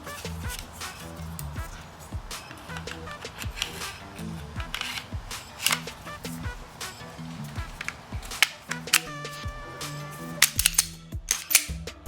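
A G3 rifle is put back together after oiling, with its spring refitted, giving sharp metallic clicks and clacks in irregular bursts, some loud and close, over a faint background.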